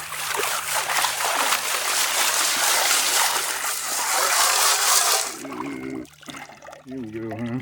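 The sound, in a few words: river water trickling and splashing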